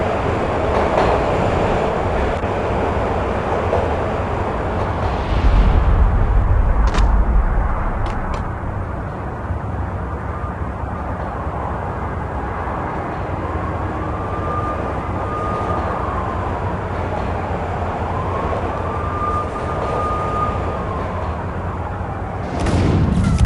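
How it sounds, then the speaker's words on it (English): Train slowing down in the Max Payne mobile video game, a loud, continuous rumbling rail roar with faint rising and falling whistling tones and a brief clank near the end, no talk. "When the train he was riding slowed down, Gagniti made his move."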